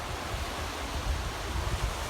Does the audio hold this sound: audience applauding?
no